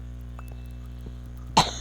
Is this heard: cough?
yes